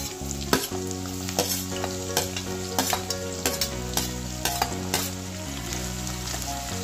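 Chopped onion added to hot oil with cumin seeds for paneer biryani, sizzling and frying steadily while a spoon stirs and scrapes the pan in repeated strokes, over a sustained background tone.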